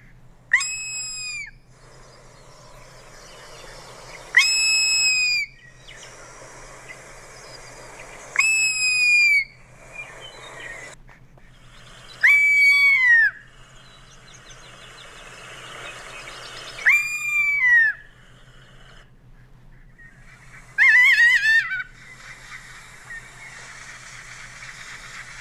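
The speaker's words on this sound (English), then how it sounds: "They make a wide variety of vocalizations like" Ferruginous hawk calls: six sharp, high descending screams come in separate bursts a few seconds apart, loud and close, with a faint low hum between them.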